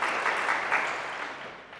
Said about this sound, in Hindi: तालियां बजा दो दौलत राज के लिए